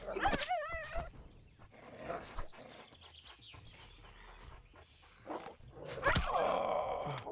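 Coyotes howl and bark in a survival video game, with wavering howls at the start and sharp yips and barks scattered through, growing louder near the end amid other game sounds.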